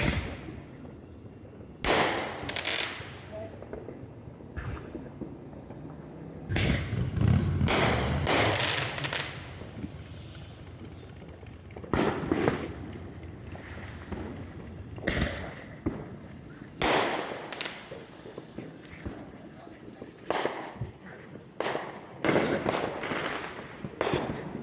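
Fireworks burst repeatedly at irregular intervals, sharp booms and crackles echoing outdoors, some close and loud, others more distant.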